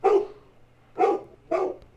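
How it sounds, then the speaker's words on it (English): A puppy in The Cat Lady video game barks three times in quick succession, each bark short and fairly loud, with brief quiet gaps and a low steady hum beneath. "It's gonna bark."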